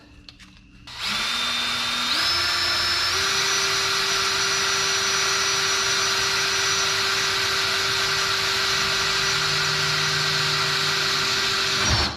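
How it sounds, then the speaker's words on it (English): A power drill making holes in aero parts for a Nissan 240SX with a CA18DET engine whirs continuously and loudly after a brief start, its motor pitch stepping up a couple of times before cutting off. "So we're gonna try to drill those."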